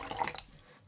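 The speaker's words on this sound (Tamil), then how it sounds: "அதுக்கு தேவையான அளவு தண்ணி விட போகிறேன்" Water splashing and trickling as it is poured into a pot of moong dal in a home kitchen, a short, close, steady wet pour that trails off quickly.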